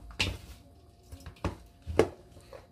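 Warm cooked rice for kimbap is mixed with sesame seeds in a bowl, heard as a few close, soft scraping and clattering strokes spaced apart, with no talking.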